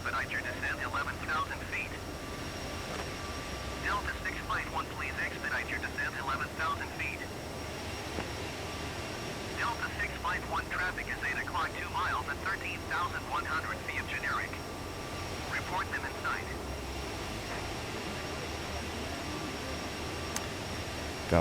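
An airliner in a flight simulator game descends with full flaps, its steady engine and airflow noise running throughout while a person talks at intervals over it.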